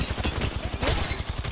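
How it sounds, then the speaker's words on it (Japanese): Rapid automatic gunfire in a hectic Apex Legends firefight, a party shooting from above with dense, repeated bursts crackling continuously and loudly with no pauses. "上のパーティーが撃ってるわ"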